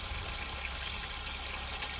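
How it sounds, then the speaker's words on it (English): Water pours into an 85 gallon container for an Evinrude G2 200 HP outboard engine test, a steady broadband rushing and splashing that holds even and unbroken, moderately loud and close. "I'm filling up with water and I'm gonna let it run"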